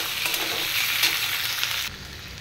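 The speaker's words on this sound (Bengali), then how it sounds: "দিয়ে এটাকে ফের আবার একটু নাড়াচাড়া করে নেব" Fried potato pieces with chopped tomato hiss and sizzle loudly in a pan while being turned, a dense close frying noise that drops abruptly to a quieter simmer near the end.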